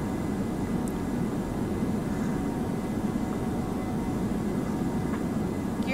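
A fixed-wing airliner climbs toward 8,000 feet after takeoff, its engines giving a steady, even roar heard from inside, constant and moderately loud throughout with no talk.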